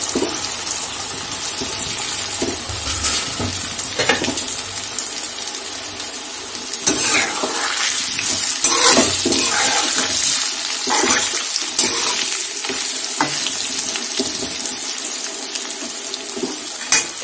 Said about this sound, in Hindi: मैं इसे तल दूंगी